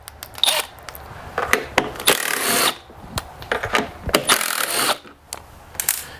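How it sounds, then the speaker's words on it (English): A T27 Torx driver turns out the cover screws on a STIHL blower, giving close, sharp clicking and ratcheting bursts with scraping and handling noises between turns. "you'll need a T27 Torx to remove this cover here"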